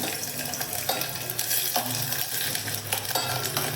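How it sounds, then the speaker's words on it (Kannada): Onions frying in oil in a pan for a mushroom biryani masala, a steady close sizzle with occasional stirring clinks, no voices. "ಈಗ ಮಸಾಲ ಸ್ವಲ್ಪ ಫ್ರೈ ಮಾಡ್ಕೊಳ್ಳೋಣ ಆಯಿಲ್ ಹಾಕ್ತಿದ್ದೀನಿ ಈಗ ಈರುಳ್ಳಿ ಹಾಕ್ತಾ ಇದ್ದೀನಿ"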